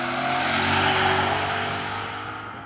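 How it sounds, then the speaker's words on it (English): BMW M5 cars roar hard under acceleration in a rolling drag race from 30 mph, starting in second gear. The engine sound is loud and sustained, with a steady rising drone that fades slightly near the end. "Now we're going to do a rolling race from 30 miles an hour, starting in second gear."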